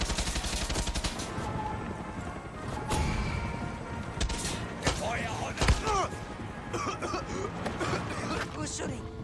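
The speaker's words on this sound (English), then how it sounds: "Who's shooting?" Gunfire rings out in the first-person shooter Far Cry 6, with repeated sharp shots and bursts alongside crashes and impacts, over a busy game soundscape with voices underneath.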